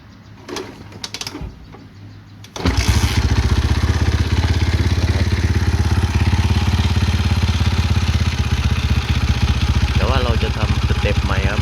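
A Honda Sonic motorcycle engine cranks and catches after a brief quiet rattle, then settles into a loud, steady close-up idle with a rapid mechanical putter and a faint voice near the end.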